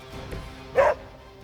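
A dog gives a single short bark during an attack in Marvel's Midnight Suns, brief and moderately loud over a low background hum.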